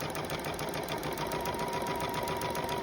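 A sewing machine stitches a dart on a summer shift dress, giving a steady, continuous mechanical whir at close range that holds without a break.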